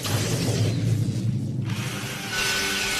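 A cartoon diamond drill bores through a bottle cork, giving a steady mechanical whirring and grinding with a brief dip midway, then resumes with a thin high whine near the end. No voices.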